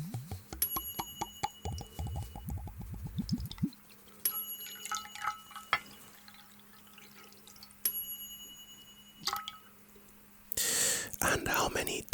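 Small, bright ding tones in an ASMR hearing-test roleplay, spaced a few seconds apart among soft close whispering, faint taps and rustles.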